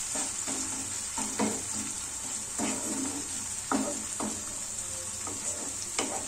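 Onions frying with sugar in a pan, a steady close sizzle broken by repeated scraping stirs of a spatula roughly every second.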